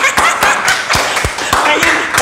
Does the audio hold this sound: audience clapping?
yes